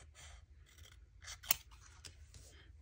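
Scissors snip paper while a coin envelope is trimmed for a papercraft project. Several short, crisp cuts sound close and fairly quiet, with one sharper snip in the middle.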